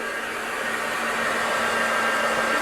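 A hair dryer blows steadily on freshly painted walls of a miniature vintage garage diorama, a continuous close whooshing hum with no pauses or talk.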